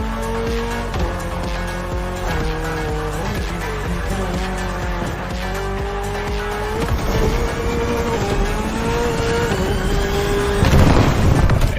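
A Toyota GR86 races in The Crew Motorfest, its loud engine revving up and down through gear changes, with tyre squeal and skidding noise building toward a harsh burst near the end; no one speaks.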